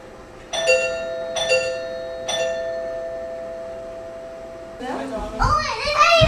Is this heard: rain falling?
no